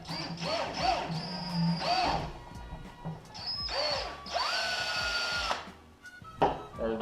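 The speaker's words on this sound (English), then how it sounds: "So we're gonna drill this." A power drill bores holes through a kayak slide track mount in several bursts of whining motor sound, close and loud, with short pauses between the runs.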